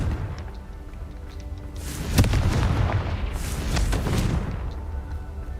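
Confringo explosion spells go off in the video game Hogwarts Legacy: loud, rumbling booms with sharp cracks bursting in quick succession over a continuous low roar.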